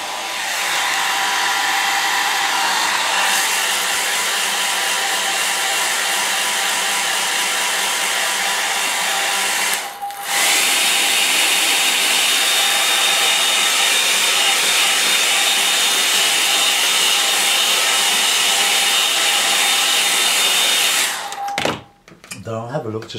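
A hair dryer blows steadily and loudly at close range over a landscape painting of ploughed fields, a continuous whirring drone that cuts out briefly near the middle, then runs on before switching off near the end.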